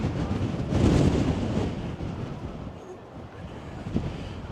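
Strong wind buffets the microphone on a coastal walkway along Australia's Great Ocean Road near the Twelve Apostles, a dull, rumbling roar that swells and eases, with faint surf underneath.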